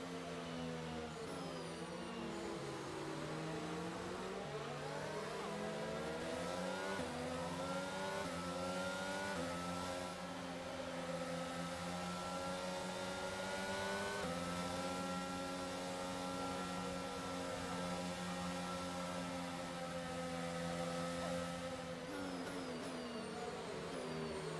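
A Formula 1 car engine roars continuously in the F1 2022 video game at the Saudi Arabia Grand Prix, with loud, steady harmonic whine rising and falling through gear shifts for the whole stretch, no talk over it.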